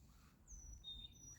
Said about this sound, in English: Birdie singing.